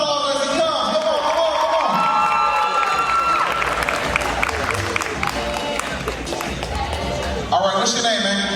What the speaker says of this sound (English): Y'all give him a round of applause as he comes.